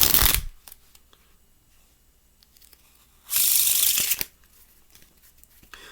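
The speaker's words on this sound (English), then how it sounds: "That is how you can riffle shuffle a deck of cards without a table." Playing cards riffled by hand in the air, without a table, make a loud close flutter at the start. After a quiet gap with light handling noise, a second dense, rattling burst of about a second follows.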